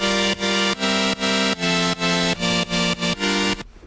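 A buzzy supersaw synthesizer with unison active but turned all the way down plays repeated chords in a steady rhythm, with a bright, thick, slightly detuned synthetic tone, loud and alone.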